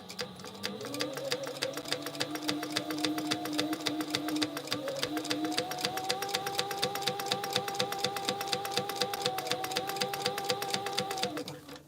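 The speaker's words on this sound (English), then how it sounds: "finger press this flat and top stitch" A sewing machine runs continuously, top stitching a tote bag, its rapid even needle chatter holding steady with slight shifts in pitch as the speed changes.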